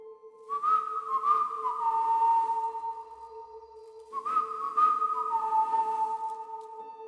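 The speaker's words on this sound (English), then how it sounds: "The whistling returns each night and we never look" Two long, wavering whistled tones, each rising then sliding down and holding, separated by a brief pause over a steady low hum; eerie and alone.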